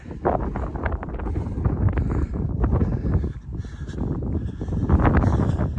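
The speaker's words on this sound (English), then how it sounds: "That's a cold wind." Cold gusty wind blows outdoors, rumbling hard against the microphone in loud, uneven buffets for the whole stretch.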